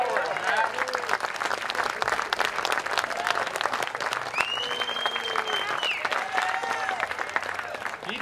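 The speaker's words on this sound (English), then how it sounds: "We should clap a little harder for him. Let's give him another hand." A crowd claps steadily and loudly for an award recipient at a wagon train gathering, a continuous dense wash of applause with voices talking and calling out through it.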